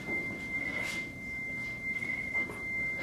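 A steady pure tone from a moving source, held at one pitch throughout with a faint warble, heard alone over a low background hiss.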